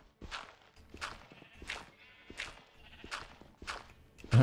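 Colorful sheep in the Minecraft video game bleat again and again, about six evenly spaced calls of moderate loudness, with no voices over them.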